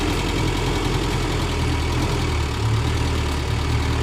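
A car engine drones loudly and steadily in first gear on a winding mountain road, a constant low rumble heard up close from inside with no talk.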